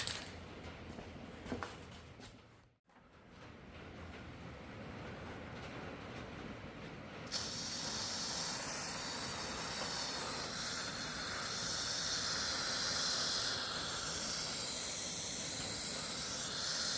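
A rattle can spray-paints a Bobcat S130 skid steer with a loud, continuous hiss. Scattered clatter and a brief pause come first, then the spraying runs steady and close, with no talking.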